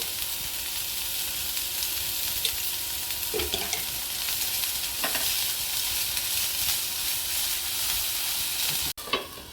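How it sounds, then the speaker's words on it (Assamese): Masala Maggi noodles sizzle steadily in a hot pan, a continuous crackling hiss with a few soft stirring knocks, ending with a brief clunk. "2 মিনিট এনেদৰে ভাজিম।"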